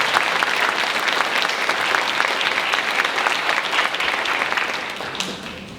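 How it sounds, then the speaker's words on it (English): A big round of applause at a service award ceremony, dense sustained clapping from a large audience that stays loud and even before tapering slightly at the end. "a big round of applause for Ms. Feigl"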